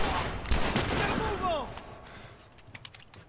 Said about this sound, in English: It took 3 shotgun shots.